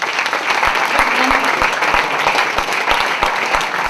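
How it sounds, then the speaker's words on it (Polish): An audience at a sports meeting with an Olympian bursts into steady applause, dense rapid clapping from many hands filling the room at an even, fairly loud level throughout. "już brawa wskazane, a jakże?"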